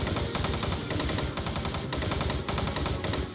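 Rapid gunfire in a Doom 3 mod, continuous loud bursts of machine-gun shots with brief pauses between volleys.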